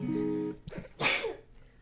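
After a short hummed tone, a single sharp sneeze bursts out close to the mic, followed by a faint trailing breath.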